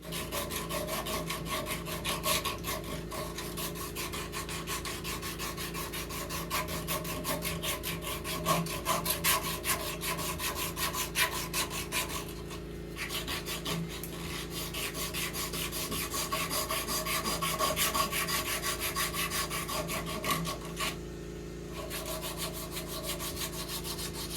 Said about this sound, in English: we're going to have to take an old grinding belt and see if we can clean that up a little bit